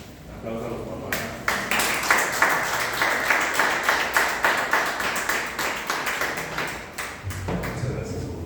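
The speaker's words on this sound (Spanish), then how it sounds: "Aplausos a los papás." A congregation claps for the fathers at a church service, a steady run of hand claps of moderate loudness, close and rhythmic, fading near the end.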